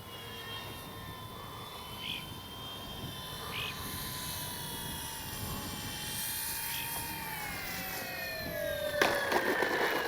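A FlightLine P-38 RC model plane makes a pass with its landing gear down, a steady electric motor whine with a slowly falling pitch as it flies by, fairly loud throughout.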